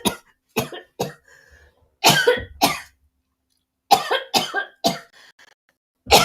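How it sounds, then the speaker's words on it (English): Several sharp, close coughs from one person come in irregular bursts with short pauses between them, loud and dry, with a little throat clearing mixed in and no other talk. "Didn't mean to cough in everybody's ear"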